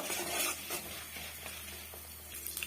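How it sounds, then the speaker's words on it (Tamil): Coriander seeds dry roasting in a pan over medium heat for a curry leaf thokku, giving a faint, steady dry rustle broken by soft spoon scrapes and stirring taps, with no voices. "மீடியமான ஹீட்ல வச்சு இது ஒரு பொன்னிறமா வர வரைக்கும் நம்ம வறுத்து எடுத்துக்கலாம்"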